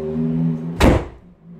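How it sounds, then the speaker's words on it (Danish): An indoor door swings shut by itself, pushed by the draft from an opened window, landing as a single solid thud over quiet room hum. "Og nu lukkede døren, fordi jeg åbnede vinduet."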